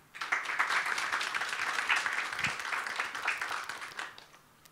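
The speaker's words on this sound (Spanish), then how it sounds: "Las recibimos y pedimos un fuerte aplauso." An audience at an intellectual property event gives strong applause to welcome the arriving speakers. The clapping is dense and sustained at moderate loudness, then tapers off near the end with no talk over it.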